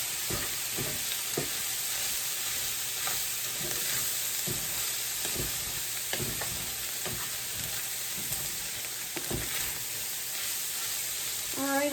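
Onions frying in a pan for pizza spaghetti give a constant bright sizzle, while a spoon scrapes and knocks against the pan in irregular strokes throughout, close and steady.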